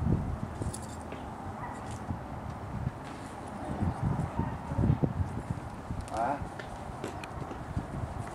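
Horse hooves clip-clop on the ground outdoors, uneven and moderately near, mixed with scuffling footsteps while people talk and shout over them.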